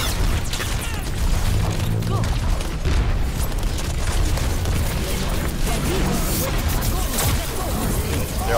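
Repeated grenade blasts and crashing impacts in Overwatch, loud and dense, booming one after another through a chaotic team fight with players shouting over them.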